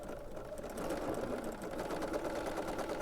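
A sewing machine running in reverse while stitching a fabric shopping bag, a steady mechanical whir and rapid needle chatter close by, with no voices.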